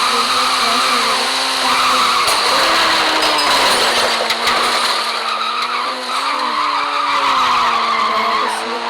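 A car in a video game skids hard; a loud, continuous tire squeal with wavering, bending pitch rides over a steady engine drone for several seconds.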